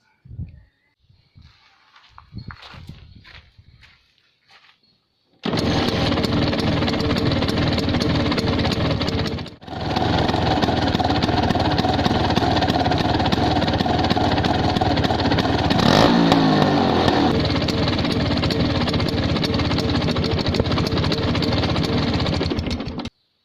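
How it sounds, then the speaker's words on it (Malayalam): A Bajaj Chetak scooter fitted with a new silencer starts after a few soft clicks and knocks, then runs loudly and steadily up close, briefly dipping once before settling back into a constant engine drone. "അപ്പോൾ പുതിയ സൈലൻസർ വെച്ചിട്ടുള്ള സൗണ്ടും കേട്ടല്ലോ"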